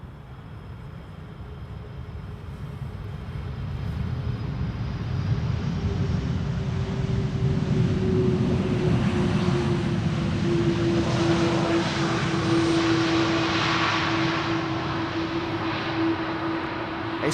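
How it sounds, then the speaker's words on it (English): A KLM Airbus A330 arrives at Schiphol's Polderbaan runway after a flight from Vancouver, its jet roar swelling over several seconds with a rising engine whine, staying loud and close before easing slightly as it passes. "Here we have KLM flight 682 arriving from Vancouver,"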